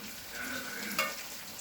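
Chili powder, coriander, turmeric, garam masala and curry leaves sizzle in hot oil in a pan while being stirred, a steady frying hiss with a sharp scrape near the middle.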